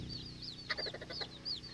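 An İspenç breed hen clucks softly in a quiet spot in town, giving a short run of low, rapid clucks amid faint high chirping nearby.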